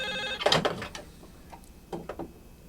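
A telephone rings in short bursts, two clusters of bright tones separated by a pause, fairly close with no talking over it.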